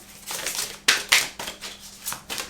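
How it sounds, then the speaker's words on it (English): Tarot cards being shuffled by hand, a series of close, crisp riffling and flicking bursts in an uneven rhythm, with no talking. "they asked me to carry on with shuffling the cards for you"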